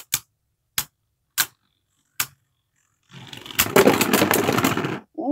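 Beyblades Kinetic Satomb and Genisis Valtreyak clash in a battle: four sharp, evenly spaced hits ring out, then a burst of grinding, scraping spin and rapid collisions follows before a brief voice at the end.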